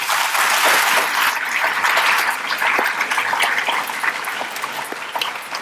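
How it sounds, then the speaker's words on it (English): An audience at an alumni award ceremony gives sustained applause, a dense and fairly loud clapping that fades slightly toward the end. "please give her a round of applause."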